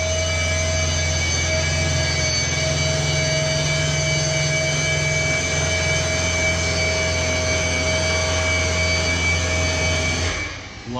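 A Douglas A-26 flap mechanism driving the flaps down, an even electric motor drone with strong humming overtones that holds steady for about ten seconds before winding down and cutting off near the end.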